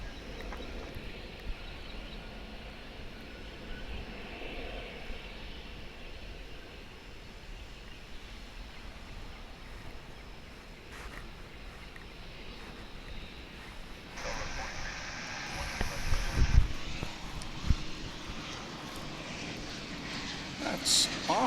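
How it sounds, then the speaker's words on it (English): An Airbus A321 bound for Omaha takes off at DFW, a low, distant engine rumble that swells louder toward the end, with a voice talking over it. "This here A321 is on its way to Omaha, Nebraska"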